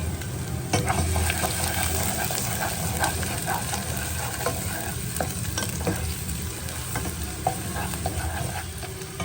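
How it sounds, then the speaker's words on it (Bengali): Chopped garlic and onion fry in a pan with a steady, close sizzle. Occasional stirring scrapes and clicks sound over it throughout, and no voice is heard. "আর এখন আমি এই যে রসুন আর পেঁয়াজ কুচিগুলো দিয়ে দিচ্ছি।"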